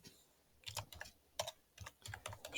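Quiet, close bursts of keystrokes on a computer keyboard as ReactJS code is typed, short irregular runs of taps separated by brief pauses.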